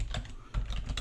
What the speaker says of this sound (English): This is where we type in target